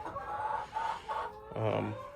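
Chickens cluck softly in a few short, faint calls close by as they peck at each other, with one louder squawk near the end.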